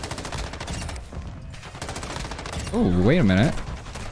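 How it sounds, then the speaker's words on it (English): M13 rifle fire in a first-person shooter game, sounding as rapid bursts of gunfire with effects and shifting game noise, and someone speaking briefly. "I do really like the fire rate of the M13."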